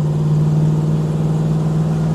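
A 1971 Plymouth Satellite in Petty Blue NASCAR trim roars steadily and loudly, a continuous deep engine drone under acceleration at close range.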